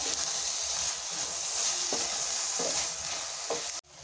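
Chopped dates sizzle and fry steadily in jaggery syrup while being stirred, with a few soft scraping strokes over a continuous crackle before an abrupt stop.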